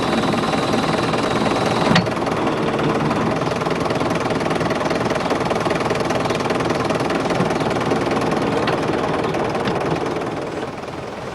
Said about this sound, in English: digger used mainly to dredge mud out of that outdoor swimming pool to be